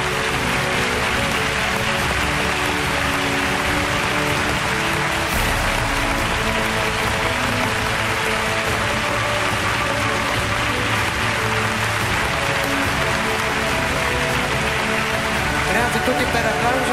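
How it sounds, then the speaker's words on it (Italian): Sustained audience applause at the Italian talent show Tu sì que vales, a dense, even roar of many hands filling the room without a break. "Grazie a tutti per l'applauso."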